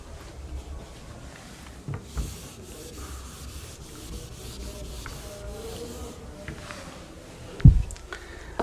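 Writing being rubbed off a board in a classroom, with steady soft scrubbing strokes close by and a sharp knock near the end.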